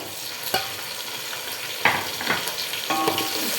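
Onions, green chillies and tomatoes sauté in a pan with a steady close sizzle, with a few scrapes and knocks of a spatula stirring them.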